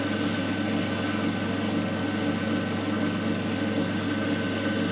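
A single phase capacitor run induction motor runs under load at about 1444 RPM, putting out a steady, even hum and drone with no change in level, close by and with no talk.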